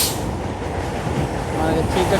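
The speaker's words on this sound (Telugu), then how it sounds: "ఏదో ట్రైన్ వెళ్తుంది." A train rolls past a stopped passenger train at a station on the Howrah–Secunderabad line, a continuous broadband rumble and rattle throughout.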